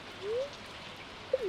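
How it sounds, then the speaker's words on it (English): Rain falls in the video game Stardew Valley as a soft, constant hiss, with two brief cooing bird notes rising over it. "it's raining today."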